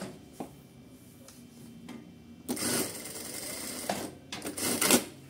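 Sun Special electronic straight-stitch sewing machine running in short bursts, faint clicks at first, then louder rapid stitching runs in the second half, alone without speech.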